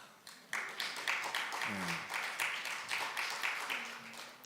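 An audience at a church concert breaks into applause that starts abruptly and holds as a steady wash of many hands clapping, with a brief voice briefly heard beneath it midway.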